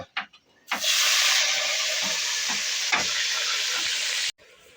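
Cumin seeds and onion hit hot oil in a pan, bursting into a loud, steady sizzle after a few soft knocks, holding for several seconds before cutting off abruptly.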